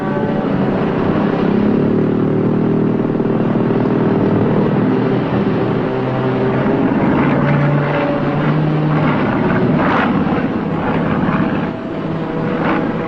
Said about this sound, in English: there's a plane overhead.